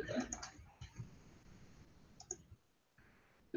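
Quiet, irregular clicking of keys on a computer keyboard, with scattered taps and short bursts and brief pauses between them, faint and close.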